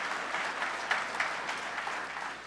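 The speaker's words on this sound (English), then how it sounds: "Give one more round of applause for Brianna and Ellen." Sustained applause from an audience at a public recognition event for first responders and community heroes, steady dense clapping throughout at moderate level.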